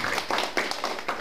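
An audience claps in thanks for a lecturer at an annual general meeting, a short burst of several rhythmic hand claps in a room, fairly close and alone without voices.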